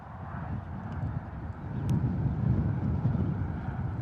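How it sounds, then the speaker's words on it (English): Low broadband roar of an EasyJet Airbus A320 during a rejected takeoff at Bristol Airport, heard from a distance as a steady rumble that swells midway and stays loud, with wind buffeting the microphone. "A320 rejected takeoff here at Bristol Airport"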